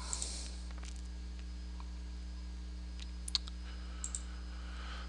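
A handful of soft, sparse mouse clicks in options-analysis software, isolated taps spread over a few seconds against a steady low electrical hum in a quiet room.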